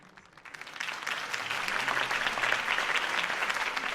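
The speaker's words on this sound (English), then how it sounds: "could have heard that applause" A crowd breaks into applause that swells quickly and holds as steady, dense clapping.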